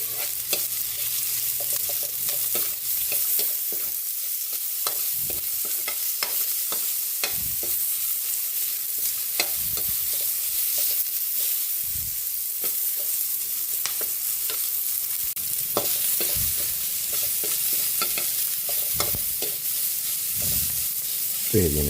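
Onions sauté in a pan with a loud, continuous sizzle, joined by repeated scraping and stirring strokes from close by. The cooking noise plays on its own, with no speech.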